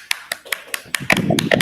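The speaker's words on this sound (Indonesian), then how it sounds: "Tepuk tangan untuk kelompok 1." Classroom applause for a student group: a few separate hand claps at first, then a small cluster of students clapping together more densely, close and brief, with some voices underneath.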